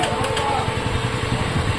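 Crackling, rattling noise from the self-starter of a Discover 125 motorcycle that struggles to start, a loud continuous close-up grinding clatter over a short burst.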